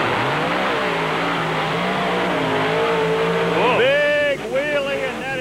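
Bigfoot, a big blue Ford monster truck, races at Canfield with a loud, droning engine whose pitch climbs and then surges in sharp revs. An announcer talks over the roar.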